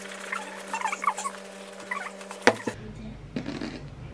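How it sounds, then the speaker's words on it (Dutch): Shoes rubbed with a banana to polish them: soft, irregular scratching and rubbing strokes, close and quiet over a low hum, broken by one sharp knock partway through. "Nu ga ik even mijn schoenen poetsen."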